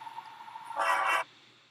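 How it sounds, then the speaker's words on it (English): A train horn blares in one loud, short blast over a faint steady hum, then cuts off abruptly. "As you can hear, this train is blowing its horn already."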